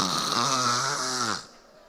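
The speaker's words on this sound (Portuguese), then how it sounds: "Porque quem está em paz até ronca" A person snores once, a close, loud, drawn-out rattling breath lasting over a second before fading into quiet.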